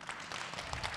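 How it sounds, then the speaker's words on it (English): Audience applause at an art-for-justice forum panel, honoring a contributing artist seated in the back; a dense, steady wash of clapping from a room full of people, moderately distant and sustained throughout. "Yes, big round of applause."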